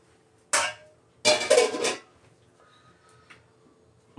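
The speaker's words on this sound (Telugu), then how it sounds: "మళ్ళీ మూత పెడుతున్నా." A lid is set back onto a container with a short clatter, followed by a longer scraping rattle as it settles, close and fairly loud, then quiet.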